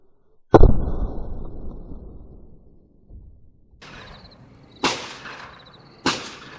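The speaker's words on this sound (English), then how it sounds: "Next up, in the Clear Ballistics Gelatin test with the Underwood 150 grain ammunition is the Colt Delta Elite." Colt Delta Elite pistol firing Underwood 10mm 150-grain Nosler rounds into clear ballistics gel: three sharp, loud shots with ringing tails, one near the start and two close together at the end, with a faint thud between.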